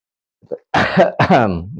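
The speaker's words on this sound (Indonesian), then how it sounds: "Agak batuk." A short, close throat-clearing cough, a couple of rough bursts followed by a brief voiced rasp.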